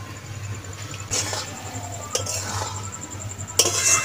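Boiled duck eggs being stirred gently in a pan, a few scattered metallic clinks and scrapes of a utensil over a low background hum.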